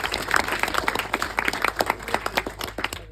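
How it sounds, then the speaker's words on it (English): Wedding guests applaud for the bridesmaids, groomsmen, families and friends, a room full of overlapping claps forming a dense, steady round of applause that fades out toward the end. "We also need a round of applause for the bridesmaids, groomsmen, and our families and friends"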